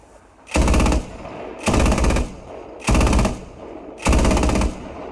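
Four loud bursts of rapid automatic fire from a vehicle-mounted gun in a video game, each lasting about a second with brief gaps between, sharp and close with no voices over them.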